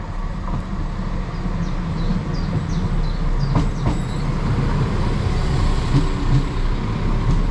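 A Class 172 diesel train rumbles steadily nearby with a low engine drone, occasional metallic clicks and squeals on the rails as it pulls away from Henley-in-Arden station.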